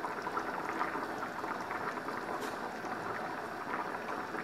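Arroz con pollo simmering in a pot on lowered heat, a dense continuous bubbling and gurgling that stays close and steady throughout, with no talk over it.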